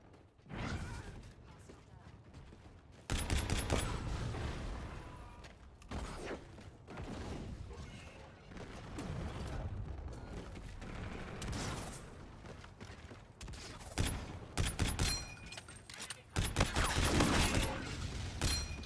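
Gunfire in Infinite Warfare online multiplayer, loud bursts of automatic rifle fire and impact thuds come in clusters, with quieter stretches of clicks and movement between them and a player talking over parts of the action.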